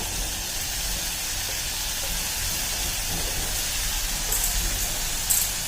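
Sliced large tomato tipped into a pan of well-fried onions, giving a steady broadband hiss and sizzle that holds evenly throughout with a few small clinks near the end and no talk.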